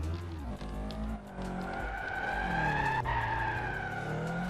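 Cars drifting with squealing tires in the MTA driving game, steered with a wheel controller; a continuous engine drone with rising, sliding tire screeches runs throughout, with no talking over it.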